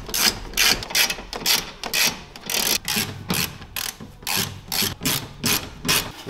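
Ratchet clicking as 10 mm screws are backed out of the radiator fan on a VW Golf 2, with rhythmic bursts of ratcheting repeated steadily at close range and no voices.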